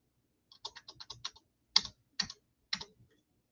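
Quiet, close keystrokes on a computer keyboard as a zip code is typed: a quick run of taps followed by a few separate, firmer presses.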